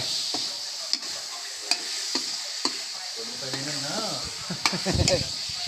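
Chopped rat meat sizzling and hissing steadily as it is dry-roasted in a pan, with intermittent scraping and stirring clicks at close range and some voices breaking in toward the end.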